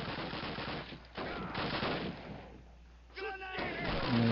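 Rapid automatic gunfire from a machine gun in a Call of Duty battle, dense bursts with brief pauses and a tonal sweep midway, loud and close with a busy war mix underneath.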